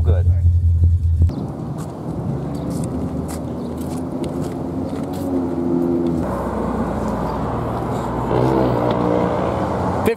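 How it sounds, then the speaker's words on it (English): An AMC 304 car engine idles and rumbles with a deep, steady tone, close by, with occasional louder revving. "For an AMC 304, it sounds so good."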